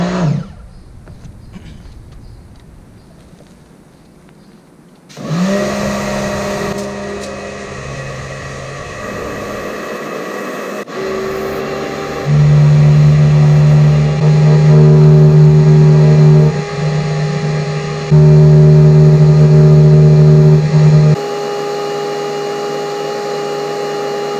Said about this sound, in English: we'll go ahead and start the actual polish job with a electric, I guess it's an orbital polisher